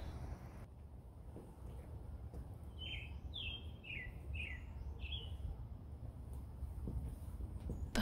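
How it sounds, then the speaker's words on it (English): Birds chirp in the morning beside a home garden, sending out a short run of about five clear, high tweets over a faint, steady outdoor hiss. "But I'm really enjoying the birds chirping in the morning."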